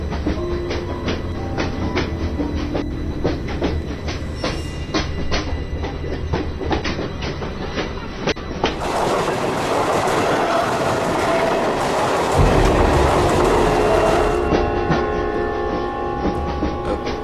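A moving train carriage rattles with steady clickety-clack of wheels over rail joints, loud and continuous, growing into a harsher, brighter roar partway through and then settling back.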